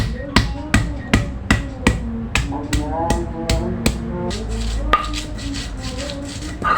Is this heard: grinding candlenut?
yes